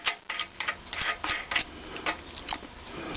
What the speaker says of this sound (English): And what I'll do is just snug these down.